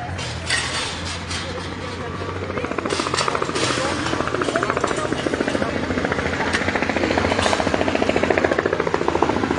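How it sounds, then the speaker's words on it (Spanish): A helicopter circles over a prison perimeter in Santo Domingo, its rotor chop building into a steady, rapid thudding that grows louder and nearer over a broad engine roar. "podemos observar el helicóptero que sobrevuela el perímetro de la cárcel"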